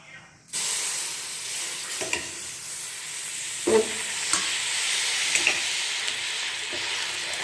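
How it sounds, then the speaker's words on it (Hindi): Milk pours into cooking sugar for coconut halwa and sets off a sudden steady sizzle, with hissing and bubbling that keeps going along with a few faint clinks of stirring. "अब हम इसमें 1 कप दूध शामिल करेंगे"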